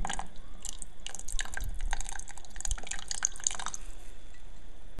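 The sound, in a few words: pouring red wine vinegar into barbecue sauce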